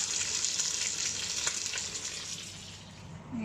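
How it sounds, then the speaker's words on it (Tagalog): Dinengdeng, a Filipino vegetable stew, boiling in a pan, giving a steady bright sizzle and bubbling hiss that holds throughout and eases off slightly near the end. "Kumukulo na ang ating dinengdeng."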